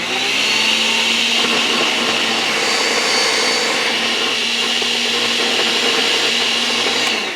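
A countertop blender whirs steadily at high speed, blending avocado and sour cream into a creamy sauce, loud and continuous throughout with no talking.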